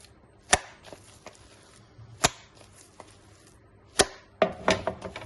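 Chicken cutlet mince is slapped hard against a bowl, several distinct sharp wet thuds spaced irregularly, close and fairly loud, with a quick cluster of smaller knocks at the end.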